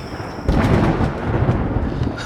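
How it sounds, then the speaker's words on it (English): A loud crack of thunder breaks in from an approaching rainforest storm and keeps rumbling heavily afterward, close and dominant, with no voices over it. "And there's a storm coming."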